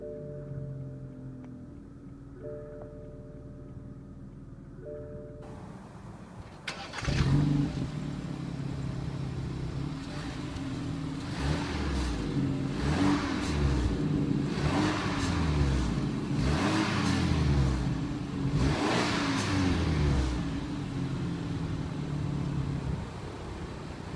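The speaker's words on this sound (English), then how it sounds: "To start the engine, all you have to do is push the foot down the brake and press the start button" A 2015 BMW 320i Sport starts with push-button ignition after a few soft chimes, then its engine settles into a steady idle broken by several revs, loud and close.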